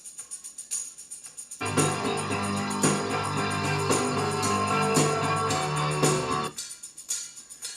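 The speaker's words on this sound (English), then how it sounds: "later in the song, the tambourine comes in" Music plays with a steady rhythmic jingling shake layered over the band, the bright tambourine rattle running through the middle section of the song before the music drops back.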